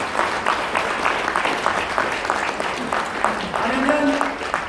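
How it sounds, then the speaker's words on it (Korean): Applause from an audience at a children's welfare association's 70th anniversary ceremony, a steady wash of clapping lasting several seconds with a voice briefly audible near the end. "한번 박수 칩시다."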